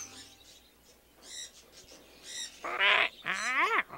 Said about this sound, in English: Minga, this is a parrot.